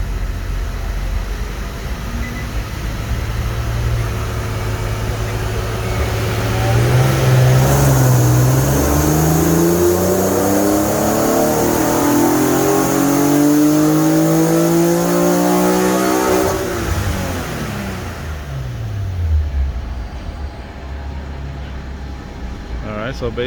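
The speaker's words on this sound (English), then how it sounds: "this is the first pull with the octane booster put into the fuel tank" A car engine on a full-throttle pull with octane booster in the tank roars loudly and close, pitch climbing steadily through the gears, then dropping off as the driver lifts.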